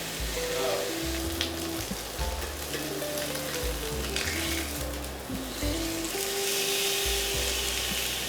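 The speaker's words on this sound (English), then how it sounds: "So now we have our steak. It's seared, it's beautiful." A steak sears in a hot pan set to 460, a steady close sizzle and crackle of frying running throughout, with intermittent musical tones layered over it.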